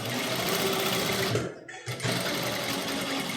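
Close, continuous whirring of a sewing machine stitching a blouse neckline, pausing briefly mid-seam with a short drop to near quiet before the motor picks up again and runs on.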